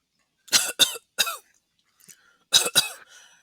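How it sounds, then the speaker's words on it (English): A commentator at an amateur wrestling show coughs in several sharp, close bursts, two quick pairs separated by a softer throat-clearing sound, as thick entrance smoke fills the arena. "It's making me cough through the TV"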